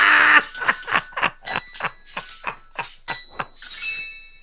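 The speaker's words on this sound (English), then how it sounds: "You got rickrolled by some jingle bells" A bright jingle of bells rings out in a rhythmic series of short, sharp strikes, about ten in quick succession, loud and close with no talking over it.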